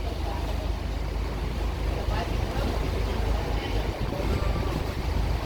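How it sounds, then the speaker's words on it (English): Engines starting up on a moving bridge at the Curacao port, a continuous low rumble mixed with wind and water noise outdoors. "I think the gentleman just started up the engines for the bridge to move."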